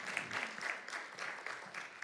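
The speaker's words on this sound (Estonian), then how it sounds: "Ja võib plaksutada, võib." Audience applauding in a theatre, a dense crackle of hand claps at moderate, steady intensity over the whole short stretch.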